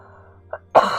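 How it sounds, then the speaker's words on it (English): A single sharp cough from someone with a lingering cough, loud and close, preceded by a small throat noise over a low steady background hum. "I just have this cough that won't go away."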